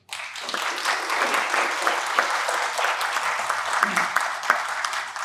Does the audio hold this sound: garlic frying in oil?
no